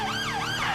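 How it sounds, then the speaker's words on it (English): A loud, close fire engine siren wails up and down in a smooth, continuous cycle during a police pursuit in the video game GTA V. "we are currently following and pursuing a fire engine"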